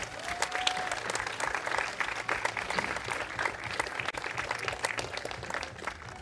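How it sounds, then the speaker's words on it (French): A studio audience at a French game-show video game tournament claps steadily for several seconds, a dense, even patter of applause at moderate volume with no voices on top. "vous pouvez applaudir Mel West."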